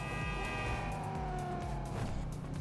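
A Banshee sports car engine in the video game GTA Online revs and drops through downshifts, its pitch falling in steps, with faint traffic noise in the background.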